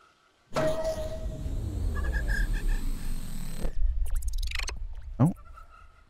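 A frog in the game Paradise Marsh gives a loud, drawn-out croak lasting a few seconds, followed by several quick rising chirpy calls and a final short croak, close and alone.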